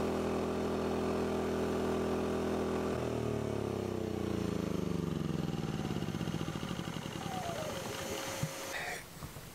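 A portable generator engine runs steadily nearby, then winds down with its pitch falling until it sputters and stops, and a faint whine is heard near the end.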